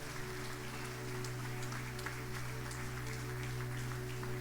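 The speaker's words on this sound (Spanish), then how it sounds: "Dale un fuerte aplauso al Señor." A church congregation claps during a Spanish-language worship service, a moderate wash of applause over a steady low hum of the room's sound system.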